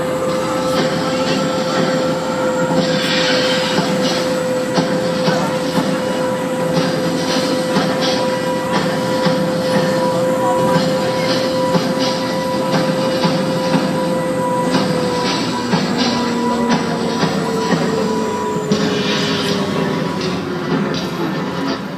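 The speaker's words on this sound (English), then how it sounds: "We're going to stop our tram in the middle of all this chaos and destruction." A theme-park studio tour tram rumbles and hums steadily, its motor tone sliding downward as it slows to a stop, with faint squeals and clicks from the wheels.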